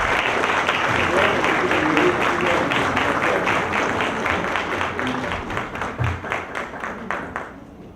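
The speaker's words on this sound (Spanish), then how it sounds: "Un aplauso, por favor." Audience applauds at the close of a keynote lecture on transparency, dense clapping that holds strong, then thins into individual claps and fades toward the end.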